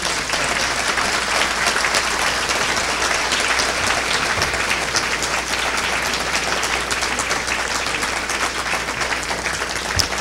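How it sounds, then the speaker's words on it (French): Audience applause following a debate during an election campaign, loud sustained clapping from many hands that holds steady for the whole stretch, with no talking over it. "Je pense qu'il mérite une bonne main d'applaudissements."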